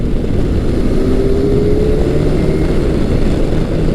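Kawasaki 1000cc inline-four motorcycle engine, heard close and loud as a continuous low droning roar with a rising tonal whine under heavy wind rush.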